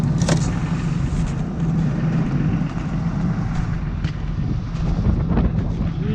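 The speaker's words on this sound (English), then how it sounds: "it's so damn windy." Strong wind buffets the microphone outdoors on a cold day, producing a steady, loud roaring rush with gusty swells throughout and no clear voices.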